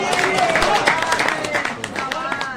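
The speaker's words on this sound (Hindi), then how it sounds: "इस तरह तालियां" Audience applause at a Hindi poetry gathering honouring a writer, a dense wash of many hands clapping steadily throughout, close and fairly loud, mixed with crowd murmur.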